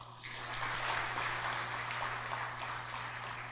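Audience applause fills a forum opening ceremony hall, a steady broadband patter of many hands clapping continuously without a pause, with a low steady hum underneath.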